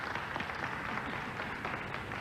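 Applause from a crowd at a nine-ball pool match in Las Vegas, a steady wash of clapping that holds evenly throughout, moderately distant and without pause.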